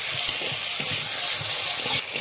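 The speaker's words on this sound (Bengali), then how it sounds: "বেগুনটাকে ভেজে নেব সামান্য হলুদ আর লবণ দিয়ে" Steady, loud sizzling of eggplant frying in hot oil with turmeric and salt, a continuous crackling hiss with a few brief pops.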